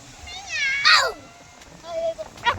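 Cat meowing outdoors during a picnic near water, with several rising meows and one loud, bright cry in the middle, mixed with people talking nearby.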